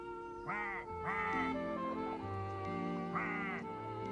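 A cartoon duck quacks loudly in three separate bursts, with a bright tonal backing running underneath and no one talking.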